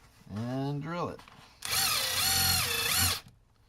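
A power drill bores a hole in a cat tower in two bursts: a short whining rev, then a longer, louder grinding run that stops abruptly, close up.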